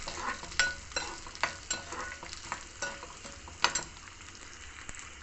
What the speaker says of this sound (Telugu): ఒక్కొక్కటిగా వేసుకుందాం శనగపప్పు మినపప్పు ఇవి కూడా కొంచెం టైం పడుతుంది కాబట్టి వేగడానికి ముందు ఇవి రెండు వేసుకుందాం